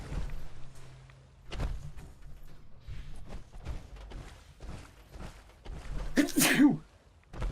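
A single loud sneeze bursts out near the end, following a stretch of soft thumps and mechanical clatter.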